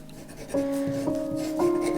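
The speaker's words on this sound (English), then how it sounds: "You can hear the pen do like this. They have some special sound." A pen drawing strokes on paper during a sketching session, heard as close, soft scratchy rubbing strokes beneath a steady tonal hum, continuous for about two seconds.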